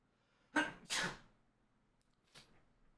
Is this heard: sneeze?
yes